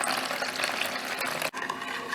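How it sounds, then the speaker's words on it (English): Warm water is poured into flour for French bread, making a steady, close rushing splash that runs continuously with one brief break partway through. "We proceed to pour the water"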